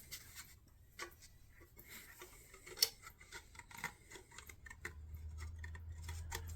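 A knife cuts a plaster moulding profile template, giving close, quiet scraping and scoring strokes with small ticks and one sharp click, ending over a low steady hum.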